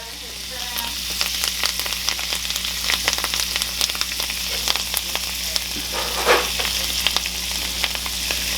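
Butter with cilantro sizzles and crackles in a hot pan, a steady frying hiss with sharp pops scattered throughout and occasional stirring sounds, close and fairly loud.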